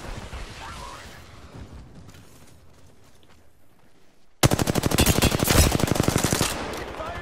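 Gunfire in the battle royale video game Apex Legends: a quieter stretch of game ambience, then a sudden loud burst of rapid automatic fire that keeps rattling steadily for the last few seconds.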